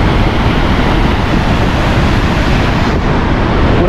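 Randha waterfall at Bhandardara in the monsoon, water pouring down in a loud, steady, unbroken roar that fills the whole stretch without pause.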